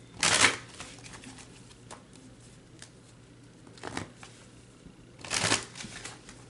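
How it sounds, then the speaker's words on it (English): Romance angel cards get shuffled and pulled in three short, crisp riffling bursts, separated by quieter faint handling noises in a calm room. "I'll pull a couple of romance angel cards."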